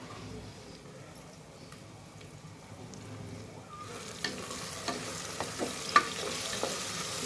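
Tomatoes with chopped dill greens frying in a pan for a dill pulao, a soft steady sizzle that grows louder midway with small pops and stirring clicks, close and alone.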